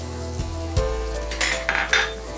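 Halved shallots drop into a pan of frying ginger, garlic and green chilli, bringing a few sharp clanks of a utensil on the pan, then a stirring scrape over a low sizzle.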